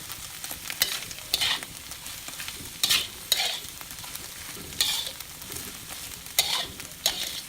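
Chili being stirred as it fries in a wok for Balinese fried rice, with a low sizzle under rhythmic scraping strokes that come roughly every second or so. The sound is close and moderately loud, with no talking.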